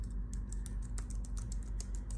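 Typing on a Logitech MX Keys keyboard, a steady run of soft, quick keystrokes with light clicks, close and clear over a low background hum, with no voices.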